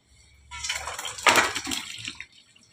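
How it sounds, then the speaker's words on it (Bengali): Water from boiled taro leaves is poured off and drains away in one short splashing gush, rising quickly and then trailing off. "এবারে আমি জলটা ঝরিয়ে নেব।"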